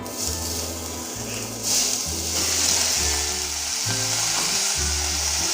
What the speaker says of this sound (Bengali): এখানে আছে সেদ্ধ করে রাখা সেই পপিতাটা এবার ছেড়ে দিচ্ছি তেলের উপরে দেখুন ছেড়ে দিচ্ছি